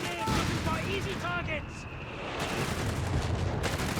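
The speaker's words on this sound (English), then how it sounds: "We got that anti-tank here, blasting away." Gunfire and anti-tank cannon blasts from a Company of Heroes 3 battle, rumbling continuously at moderate loudness beneath a commentator's voice early on.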